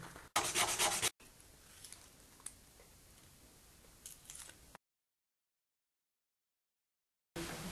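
A blade slices thin strips of Provence cane in short, close scraping and rasping strokes: one loud burst at the start, then softer rubbing scrapes before the sound drops out.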